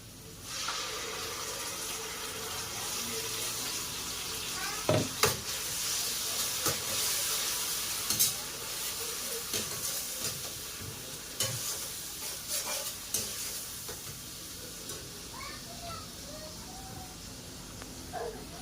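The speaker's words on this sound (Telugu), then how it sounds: "ఆనియన్స్ అయితే బాగా దోరగా వేగిపోయాయి ఇప్పుడు మనం వెంటనే అల్లం వెల్లుల్లి పేస్ట్ వేసేసుకుందాం" Ginger garlic paste added to well-browned onions for a spicy chicken curry, giving a steady close sizzle with spoon stirring and occasional scrapes and taps against the pan, without speech.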